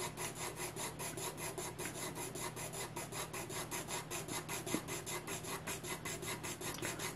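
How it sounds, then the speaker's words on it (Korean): A pencil shades across paper with steady, even pressure, making a soft rhythmic scratching that rises and falls with each stroke, faint but close, with no talk over it. "제가 종이에 색감을 칠할 건데 제가 힘을 올리지 않고 일정한 힘으로 색을 계속 칠해 줄 거예요."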